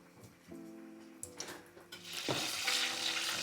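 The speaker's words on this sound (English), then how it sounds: "heat your oil to 350 degrees and add your egg rolls in, letting them fry for about 5 to 7 minutes or until golden brown" Egg rolls drop into 350-degree oil and deep-fry, the sizzle building from quiet crackles into a loud, dense, steady frying hiss up close, with no talking.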